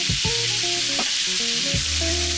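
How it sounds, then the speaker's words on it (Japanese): Minced meat searing hard in a frying pan for bolognese, a strong steady sizzle up close, with occasional spatula scrapes and no talk. "フライパンの底面につけていくような感じで、 またね、さらに焼き色をつけていってください"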